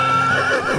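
A horse whinnies loudly and close, a single sustained neigh with a wavering pitch lasting nearly the whole moment, standing alone without any talking.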